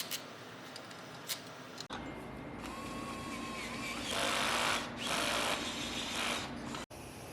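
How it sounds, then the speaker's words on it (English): Steel braided turbo oil drain line being cut to length during a single-turbo BMW N54 engine build, with a few sharp ticks followed by a steadier cutting rasp that swells in two bursts, close by with no talk. "we had to do some modifying to Irwin's new steel braided drain line because it was actually a little bit too long, so we just cut it down"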